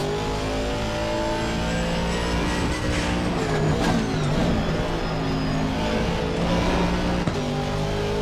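An Aston Martin race car in a racing video game at Oulton Park, its engine revving and shifting through gears in a continuous loud drone, with rises and dips as it works through corners.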